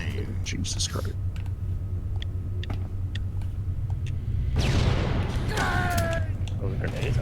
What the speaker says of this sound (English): Those grenades